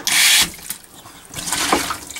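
Portable RV camping toilet flush pump sending water into the bowl, a loud sharp rushing burst at first, then quieter gurgling and a second swelling surge of flowing water, heard up close.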